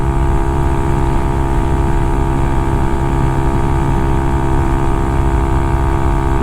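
A Honda Grom motorcycle engine drones steadily at high revs while riding at speed, a loud, constant buzzing hum with no talk over it.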